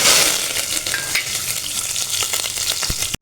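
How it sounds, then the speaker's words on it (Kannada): Mustard seeds, cumin, curry leaves and chillies splutter in hot oil for a tempering, giving a close, crackling sizzle with scattered sharp pops near the end. "ಸಾಸಿವೆ, ಜೀರಿಗೆ, ಕರಿಬೇವಿನ ಸೊಪ್ಪು, ಒಂದು 4 ಮೆಣಸಿನ್ಕಾಯಿ ಈ ಒಗ್ಗರಣೆ ಹಾಕ್ತಾಯಿದ್ದೀನಿ ನೋಡಿ"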